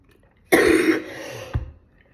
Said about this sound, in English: I've got like a tickly cough now.